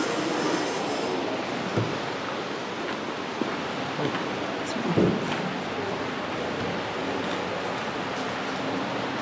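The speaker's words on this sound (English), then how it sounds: "Comes that long freight train you just saw." A model freight train rolls along its tracks in a museum layout, making a continuous, moderately loud rumble and rattle with a few soft clicks, under a busy room ambience.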